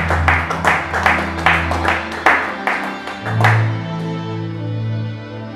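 Church congregation clapping in rhythmic bursts, about a dozen sharp claps close by over a low hum, fading out into a held sustained tone.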